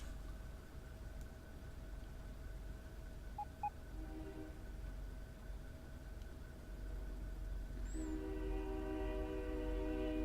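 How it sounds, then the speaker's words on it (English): Train in the video game Factorio rolling past with a steady low mechanical rumble, a couple of short tonal blips, then a louder rising hum with layered tones as it draws near, faint overall. "There's a train coming."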